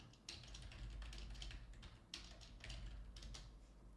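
Rapid clattering keystrokes on a computer keyboard, close and fairly quiet, in uneven bursts with brief pauses, no talking.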